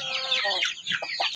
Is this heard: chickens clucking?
yes